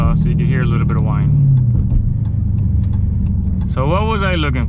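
A Dodge Challenger Hellcat engine hums with a low rumble and a faint whine, while someone talks over it from inside the car.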